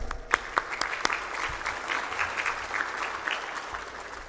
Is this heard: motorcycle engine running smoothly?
no